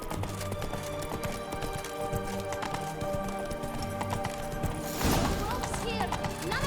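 Hooves of Roach, the horse from The Witcher 3, clip-clop in a steady galloping rhythm under game music and ambience, with a brief louder rush of noise midway.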